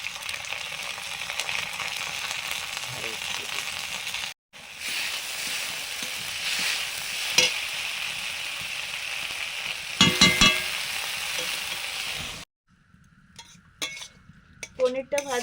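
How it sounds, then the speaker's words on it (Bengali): Steady frying sizzle in a pan with occasional utensil clinks and scraping, continuous for most of the stretch before a brief quiet break. "পনিরটা ভাজা"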